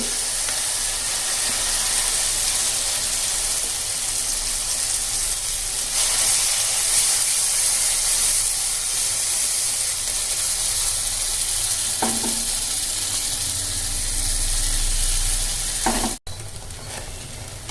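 Spice paste for a green pea filling fries in a hot pan with a loud, steady sizzle and hiss, broken by a few stirring scrapes, before a sudden brief drop near the end.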